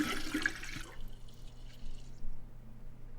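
Distilled water pours briefly into a large jar with a splashing rush that stops after about a second, leaving a quiet hum and a few faint drips.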